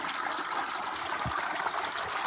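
Creek water trickling and burbling steadily over gravel and hard clay at a stream crossing, a soft continuous flow heard fairly faintly with no talk.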